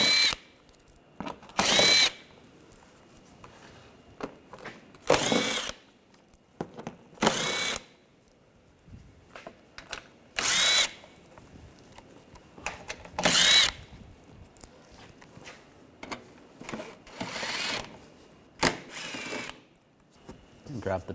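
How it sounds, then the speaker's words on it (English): A power tool with an 8mm socket spins screws out of a panel on a 2009-2013 BMW 328i xDrive 3.0L, in several short, loud bursts separated by pauses. "Using a 8mm socket, we want to take these screws out."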